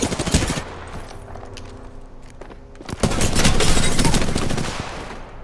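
Rapid automatic gunfire from the Apex Legends video game rattles in dense bursts, briefly easing before a louder sustained barrage of shots and impacts, with no talk over it.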